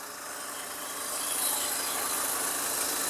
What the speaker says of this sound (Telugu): ఇది పెట్రోల్ ఇంజిన్ అన్నమాట.